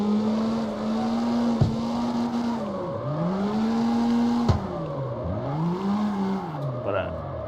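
Car drifting in second gear in the CarX Street video game, the engine note rising and falling in repeated revving swells with tire noise, loud and close, while a person talks over it.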